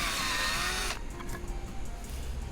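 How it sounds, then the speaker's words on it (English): A power drill with a 7/64 bit whines loudly while boring a hole through a plastic cap for camera wiring on a Toyota Tacoma, then cuts off, leaving faint ticks and handling noise. "go grab your 7/64 drill bit, and we're gonna drill a hole to run the wire through the cap."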